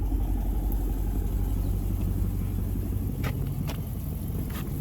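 A 2015 Dodge Charger Pursuit idles with a steady, close low rumble, a few faint clicks sounding briefly near the end.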